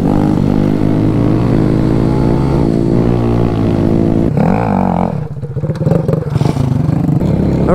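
A BMW GS Rally Adventure motorcycle with a spark arrestor muffler drones loudly at steady revs, then chops and surges as the throttle changes, close and dominant with no talk.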